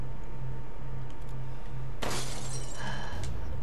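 Glass shattering in Resident Evil Village, the Castle gameplay demo: a single sudden loud crash about halfway through, followed by tinkling shards settling, over a steady low game hum.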